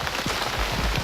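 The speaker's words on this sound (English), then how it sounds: "So we get out of rain." Steady rain falls outdoors at Glenorchy in summer, a dense, even hiss of drops pattering on surfaces that holds close and constant throughout, with no voices over it.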